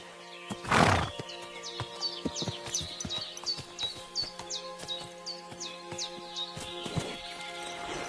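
A horse in a video game gives a loud whinny, followed by a run of rhythmic hoof clip-clops and a second fainter neigh, with birds chirping in the background.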